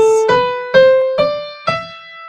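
A run of Lydian-mode notes beginning on F, played one after another on a sustained, piano-like instrument, each struck note ringing into the next, clear and close with no voices.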